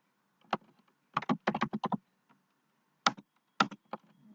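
Someone types partner names into accounting software on a computer keyboard, with bursts of close, crisp key taps in quick clusters, separated by short pauses and a couple of single firm presses.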